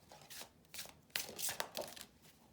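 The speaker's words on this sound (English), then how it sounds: "I'm going to pull a couple surrender cards" Tarot cards being shuffled and pulled from the deck, several quick papery riffles and slaps in short bursts, close and fairly quiet with no talking.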